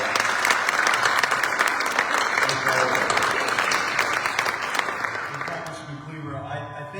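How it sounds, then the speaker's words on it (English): An audience at a Kansas City forum on the fentanyl opioid crisis gives its speakers a loud, sustained round of applause that fills the room, thinning and fading toward the end. "Let's give all of our speakers a round of applause."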